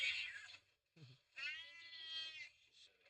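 A cat gives a couple of drawn-out meows, fairly close, with a short low thud between them; faint and quiet overall.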